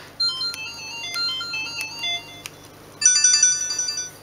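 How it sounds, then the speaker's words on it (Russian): A built-in 64-tone polyphonic ringtone plays from an LG KF300 mobile phone, bright electronic melody notes in quick phrases, with a denser, louder burst of chiming tones near the end, heard close and alone. "Стоят встроенные рингтоны."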